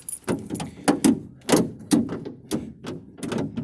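A car door on a 1958 AMC Rambler Super is worked by hand, giving a run of close, sharp clunks and latch clicks in an uneven rhythm, with faint rattles between them.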